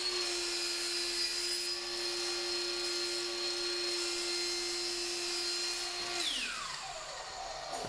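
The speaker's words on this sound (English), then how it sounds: "just cut some 1/2-inch plywood" A power saw cuts through half-inch plywood for gusset plates in a workshop, running as a steady high whine for about six seconds before the motor winds down and the pitch drops away, with no talk.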